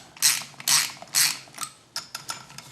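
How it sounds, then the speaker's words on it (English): Screws are driven into holes while rebuilt parts are installed on a 16k machine, a series of close ratcheting, creaking mechanical turns in uneven bursts, loud at first and then lighter. "we screw those in"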